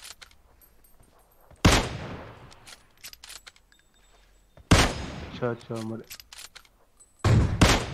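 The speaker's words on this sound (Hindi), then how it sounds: "मैंने इतनी सारी गोलियां चलाई यार" Gunfire rings out in the video game PUBG on the Vikendi map: three sharp, loud bursts spread out over several seconds, with people talking quietly in the gaps.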